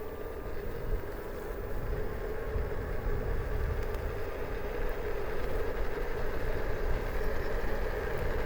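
Inöe Sweemie 2 electric scooter riding at speed, a steady low rumbling drone of motor and wind noise that holds constant and fairly loud throughout, with no voices.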